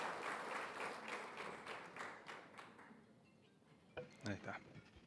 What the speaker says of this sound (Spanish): Un aplauso para Rodrigo Díaz Meri